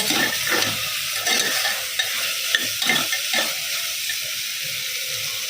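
Red chilli powder and spice paste sauté in a pan with a loud steady sizzle and frequent scraping stirs close by.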